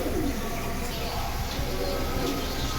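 Silver pigeons in a loft coo steadily, low rounded calls repeating close by over a dense background hum, with a voice talking now and then.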